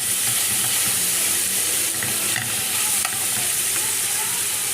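Alexandrian sausage stir-fried in a pan gives a loud, dense, unbroken sizzle up close, with faint scrapes of stirring underneath.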